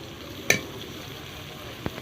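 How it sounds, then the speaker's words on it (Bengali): Carrots and beans fry in hot oil in a kadai, a steady low sizzle with a sharp clack near the start and a softer knock later. "তো আমি গাজরগুলো ভেজে নেবো। বিনসগুলো ভেজে নেব।"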